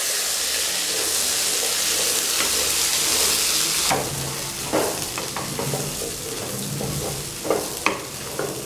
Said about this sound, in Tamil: நாம் வடிகட்டி வச்சுருந்த கடலை இதில் சேர்க்கலாம். நல்லா கலந்து விட்டு விடணும்.